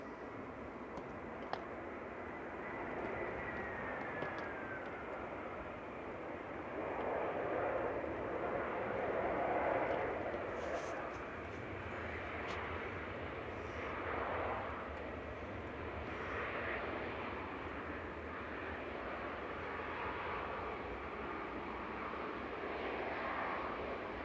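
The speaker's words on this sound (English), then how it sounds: "EasyJet just about to touch down, coming in from Amsterdam with flight 2166." EasyJet airliner, registration G-EZUW, landing at Manchester Airport on a flight from Amsterdam, a steady distant jet roar rising slightly in the middle and then holding level, with no talk over it.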